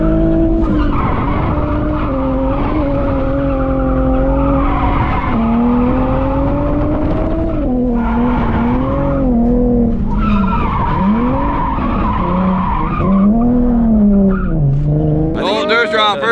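A car drifts around a police academy track, its tires squealing and skidding in long wavering howls over a constant engine drone, loud and close, with people talking over it.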